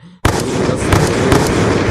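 Massive planet-destroying explosion in the space-smashing game Solar Smash: a sudden loud blast after a brief quiet moment, then a sustained roaring rumble with repeated crackling pops and bursts throughout.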